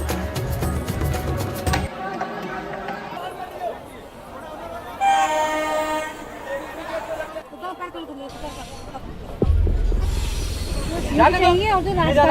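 A packed passenger train running, with a steady rumble and rattling carriage noise beneath crowd chatter, rising louder near the end.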